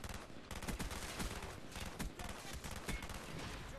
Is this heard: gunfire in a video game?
yes